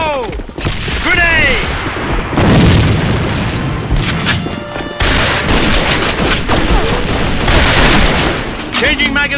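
A grenade explosion and bursts of gunfire in the shooter game AVA, loud and continuous, with booming blasts and rapid shots layered over game voice callouts and sweeping effects.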